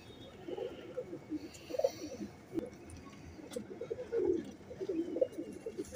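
Female frozpuri pigeon cooing, soft repeated low coos in irregular bursts, fairly faint and close with quiet background.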